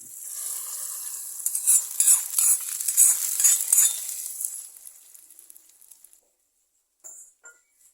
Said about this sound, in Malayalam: നമുക്ക് എണ്ണ താളിച്ച് ഒഴിച്ചു കൊടുക്കാം.